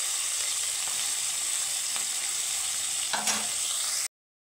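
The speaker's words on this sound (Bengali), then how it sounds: "ছানা করে আমি পনির বানিয়ে নিয়েছি। তো একটু হালকা করে ভেজে নেব।" Homemade paneer sizzles and fries lightly in hot oil, a steady close crackle running alone with no voices until it cuts off abruptly.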